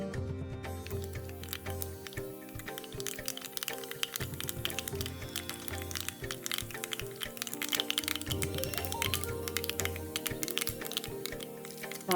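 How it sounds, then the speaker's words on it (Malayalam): Mustard seeds spluttering and popping in hot coconut oil in a pan for a Kerala kappa and fish curry: dense, continuous crackling and sharp pops, close and steady throughout. "അത് ചൂടായി വരുമ്പോൾ കടുക് ഇട്ട് കൊടുക്കാം."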